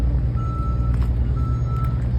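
A tractor-trailer truck backs up nearby with two long steady reversing beeps, loud over its low idling diesel engine rumble.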